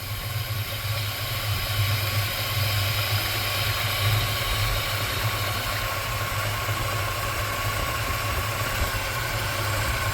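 A 1979 Chevrolet C15 truck engine idles steadily and close by, a low throaty rumble with a constant drone that holds even throughout, running alone without any voices.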